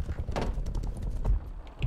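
A short run of horse hoofbeats clip-clopping in Rust, a few close, distinct strikes against faint background game noise.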